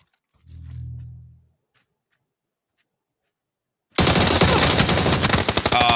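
Automatic gunfire in the PUBG battle royale video game breaks out in a loud, rapid burst after a soft thud and a few seconds of near silence.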